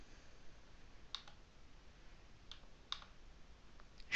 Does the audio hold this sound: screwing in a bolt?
no